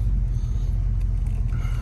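A 1993 Ford Mustang 5.0 convertible with an automatic transmission idles nearby, its V8 giving a steady, deep low rumble that holds even and unbroken throughout.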